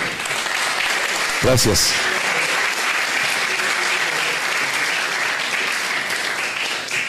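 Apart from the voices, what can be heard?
audience applause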